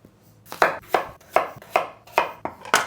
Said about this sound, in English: So once you get the potatoes washed, we're just gonna chop these up.